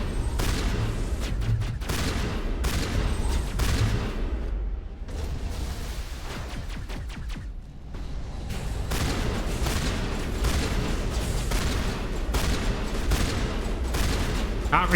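Repeated shotgun blasts and gunfire from combat in Mass Effect 1 Legendary Edition, loud bursts in quick irregular succession with a brief lull midway, mixed with game sound and occasional voice.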